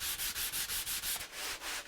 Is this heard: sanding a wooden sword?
yes